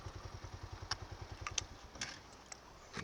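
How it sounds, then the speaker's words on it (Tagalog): A motorcycle engine idles with a quiet, steady low putter that fades out, accompanied by faint clicks and clatter and no talking. "parada natin muna yung motor"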